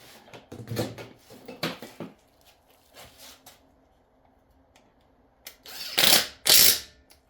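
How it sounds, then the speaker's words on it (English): A ratchet tightens a part on a TH350 automatic transmission under rebuild, with bursts of rapid clicking, a pause, then louder close clicking toward the end. "Get this thing tightened down right quick."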